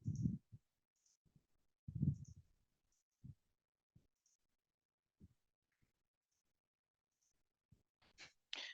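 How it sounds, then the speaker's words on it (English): Computer mouse clicks on an add button, a handful of soft, close, isolated clicks spaced irregularly with quiet gaps between them, no voices. "Just clicking on this add button"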